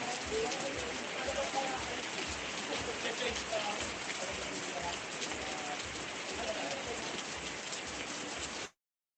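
Steady rain pattering on a surface, dense and continuous for several seconds before cutting off abruptly.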